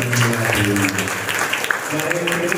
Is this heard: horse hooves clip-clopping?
no